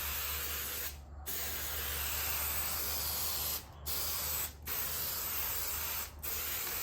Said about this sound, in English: the idea is just to spray your stuff on there